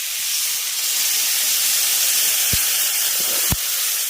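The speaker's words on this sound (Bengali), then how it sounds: "মশলার সঙ্গে ডাটা আর আলুটাকে ভালো করে কষিয়ে নিয়েছি এবার জল দিয়ে দেবো" Water hits a hot pan of spiced drumsticks and potatoes with a loud, sustained steamy hiss up close, marked by two brief low thumps and no talking.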